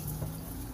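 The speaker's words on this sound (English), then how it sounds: "welcome to the sink where we're washing the Katadyn B3 bottle" Tap water runs steadily into a sink while a Katadyn BeFree bottle is washed, a soft continuous splashing hiss.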